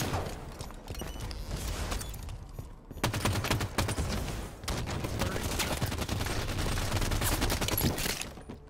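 Dense, continuous gunfire in the Halo 5 Guardians video game, with rapid bursts and machine-gun fire that keep going with hardly a break. A short drop comes around the three-second mark, then the shooting runs on loud and steady.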